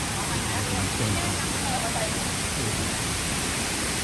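Kroeng Krawia waterfall, first tier, in Sangkhla Buri, Kanchanaburi, gives a dense, unbroken rushing roar that fills the whole stretch at constant loudness.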